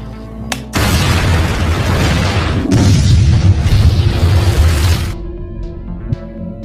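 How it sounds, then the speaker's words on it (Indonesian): A coffee machine explodes in a sudden loud boom that roars for several seconds, with a second heavy blast partway through, then cuts off into quiet. "tiba-tiba mesin kopi tersebut meledak"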